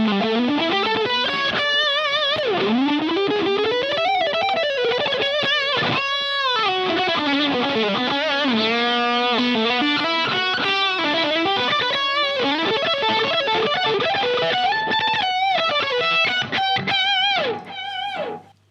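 Electric guitar played through a Boss DS-1 distortion pedal and a delay in the amp's effects loop, a continuous melodic lead line with echoing repeats, loud and alone for most of its length before it fades at the end.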